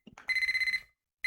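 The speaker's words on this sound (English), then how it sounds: "I heard my alarm clock ringing." An alarm clock rings in the Hapymaher video game, a harsh, rapid electronic bell trill that rattles for about half a second, falls silent, then starts again. It is fairly close and heard alone.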